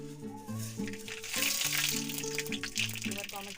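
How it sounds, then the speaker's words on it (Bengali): Dried red chillies fry in hot oil in a wok, a soft, steady sizzle running under a woman's nearby speech throughout. "লঙ্কা দিলাম, লঙ্কাটা একটু ভাজা হয়ে আসলে তারপর দেবো সর্ষে।"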